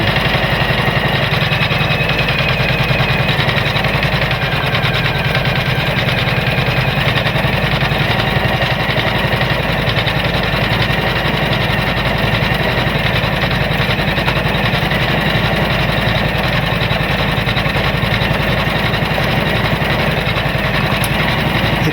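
A Janome Memory Craft 500d embroidery machine stitching underlay on an outer ring runs with a loud, close, steady mechanical hum and rapid rhythmic needle chatter, unbroken throughout with no voices.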